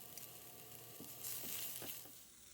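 Chopped yellow onion sizzles in vegetable oil in a pan, a close steady hiss that briefly swells louder as it is stirred, with no talking.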